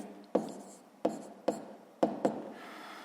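Pen or pencil marks on paper while working a sixth-grade math exercise: five sharp scratchy strokes, each a quick rasp that fades, spaced unevenly and fairly close, with no talk.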